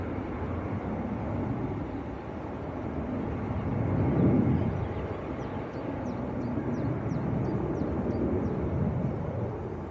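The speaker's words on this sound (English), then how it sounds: "EasyJet just getting airborne off 5 left." An EasyJet airliner takes off from runway 05L at Manchester Airport, a distant broad jet roar that swells slightly near the middle and holds steady, with faint birdsong chirps above.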